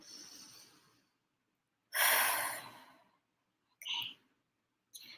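A deep breath with one long audible inhale-exhale in a quiet room, preceded by a softer breath and followed by two short sniffs or breaths, close and unhurried, with no talking.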